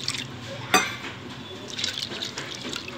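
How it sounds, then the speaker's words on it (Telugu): Water poured from a glass onto washed toor dal in a cooking pot, a sudden splash followed by a brief soft trickle and settling liquid. Close and fairly quiet, with no talking. "ఇప్పుడు ఒక గ్లాసుడు పప్పుకు 2 గ్లాసులు నీళ్ళు పోసుకోవాలి"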